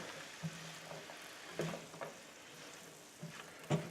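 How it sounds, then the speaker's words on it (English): Haluski sizzles quietly in a pan as garlic salt is stirred in, a faint, soft frying hiss broken by a few light spoon knocks and scrapes against the pan. "Let's stir that in."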